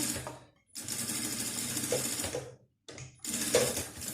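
A sewing machine stitching a toiletry pouch, running in steady whirring bursts with two brief stops as it reverses for backstitches, close and clear.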